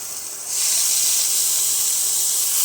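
Chillies hiss and sizzle loudly as they roast with spices and yogurt in a hot pan, a soft start jumping after half a second into a steady, close, continuous frying hiss with no talk.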